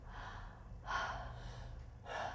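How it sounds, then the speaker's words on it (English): Relaxed-jaw breathing in and out through the mouth during a breathwork session: two soft, airy breaths heard up close, one near the middle and one at the end, with quiet between them and no speech. "You're going to breathe in and out through your mouth."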